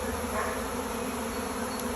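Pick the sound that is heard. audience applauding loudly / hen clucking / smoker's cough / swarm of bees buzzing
swarm of bees buzzing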